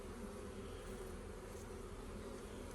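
Honeybees hum in a dense, continuous buzz at an open hive, a steady close drone with no pauses and no voices.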